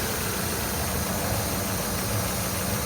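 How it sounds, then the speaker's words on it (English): A 1999 Mazda Miata with a 5-speed gearbox idles smoothly, a steady close engine hum with an even, unbroken drone throughout. "It's idling just about perfect."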